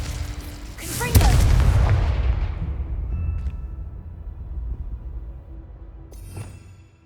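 A Confringo fire spell goes off in Hogwarts Legacy as one loud, close boom that rolls and fades over several seconds. A smaller burst follows near the end.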